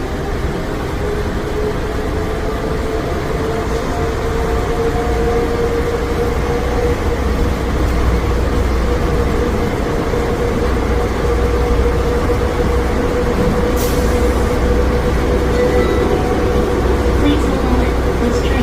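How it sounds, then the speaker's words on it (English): An airport plane train departs and runs toward Concourse D, giving a steady rolling rumble with a rising electric motor whine that continues throughout, close and even, with no clear speech. "Board the plane train. Please hold on. This train is departing."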